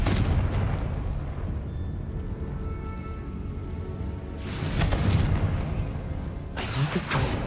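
Confringo fire spells exploding in the Hogwarts Legacy video game: a deep rumbling roar fills the first seconds, then two sharp, bright blasts burst out later, loud and close.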